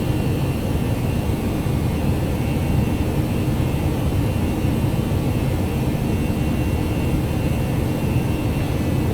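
Airbus A319 jet engines at climb thrust in the X-Plane 11 flight simulator, a steady, loud, continuous roar with an even broadband rumble and faint high whine, no talking.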